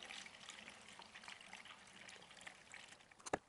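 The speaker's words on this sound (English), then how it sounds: "let's put some coolant in" Coolant trickles and gurgles as it is poured into the cooling system of an Alfa Romeo 159 in a garage, a faint continuous liquid sound ending in a couple of small knocks.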